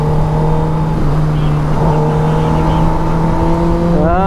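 A car engine revving and accelerating, the pitch holding steady then climbing sharply at the end, loud and close, with a voice talking over it.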